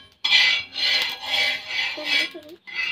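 A metal spoon scrapes and rubs across a hot iron tawa griddle, spreading a little oil over it before a besan batter goes on; steady raspy strokes repeat close up with brief pauses and no talk.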